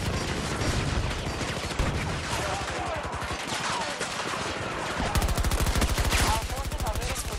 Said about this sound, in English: I carried on shooting there